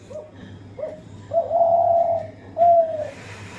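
A dove coos from close by indoors in a kitchen while rain falls outside, giving a few soft rising calls followed by two longer, louder drawn-out coos, with no speech.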